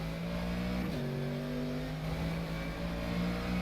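Sim race car engine from rFactor 2 lapping the Nordschleife, a steady loud drone that drops pitch sharply at a gear change, then holds and climbs slightly, with no voices over it.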